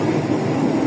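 Inside a Lodaya passenger train running at about 110 km/h, a steady loud rumbling roar of wheels and carriage fills the whole moment with no break and no talking.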